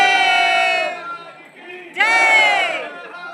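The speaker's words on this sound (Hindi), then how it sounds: "भीड़ बहुत है यहाँ पर" A large crowd of pilgrims at the Mahakal temple in Ujjain raises loud, close collective shouts and chants in two surging bursts, separated by a brief lull.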